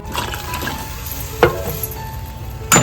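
Kadhi being added to a hot tempering of spices in oil, a close, loud sizzle with two sharp bursts of hissing and clinks of a utensil against the pot.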